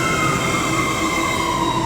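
Avanti West Coast class 390 Pendolino 390039 'Lady Godiva' runs into Liverpool Lime Street as a terminating service from London Euston, a steady loud rumble with a high whining tone holding throughout, close by.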